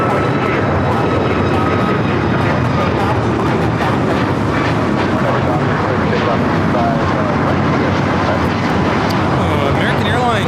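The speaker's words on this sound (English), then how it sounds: "a second takeoff here on the south side." A loud, continuous roar from an airliner taking off on the south side at LAX fills the scene, with a person talking over the jet noise.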